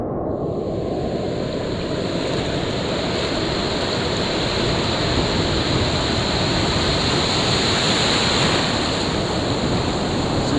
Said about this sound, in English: Wow, some of these waves are huge.